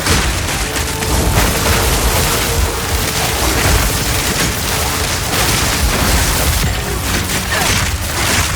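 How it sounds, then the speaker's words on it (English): A dense, continuous blast of explosive noise in the Path of Exile 2 video game, loud and crackling with rumbling bursts layered throughout, with no talk over it. "That was a cool explosion."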